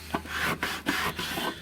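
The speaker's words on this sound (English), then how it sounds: "we want to basically scuff that up. The whole thing should probably be scuffed all the way around." Abrasive scuffing of a giant Nuka Cola bottle cap prop: a few close, rasping back-and-forth rubbing strokes in quick succession with brief gaps, no talk.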